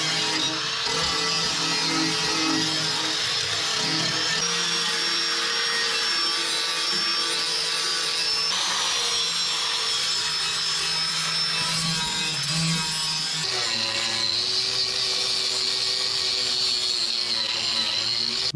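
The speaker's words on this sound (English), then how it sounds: "We've got to grind all the surrounding surface, deburr all the edges, scrape out any crud" Bodywork on a 1959 Dodge Coronet: a power tool grinds and deburrs the metal with a loud, continuous, high-pitched rasp that shifts in pitch as the tool moves across the surface.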